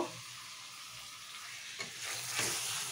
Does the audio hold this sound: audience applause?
no